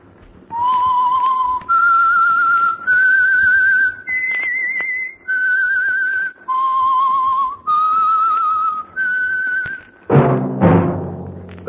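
A clear whistled tune of about ten sustained notes at shifting pitches, each held briefly with short gaps, ending in a burst of noise.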